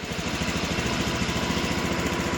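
A Honda Beat FE motorcycle engine idles steadily nearby, a continuous low putter with an even rhythm and no voices over it.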